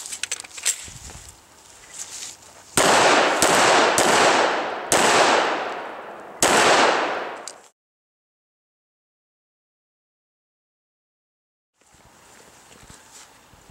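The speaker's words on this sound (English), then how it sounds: "Great shooting, Ed." Pistol fire at an action pistol shooting event: a run of loud, sharp shots close by, several overlapping in quick succession, then silence before faint outdoor noise resumes.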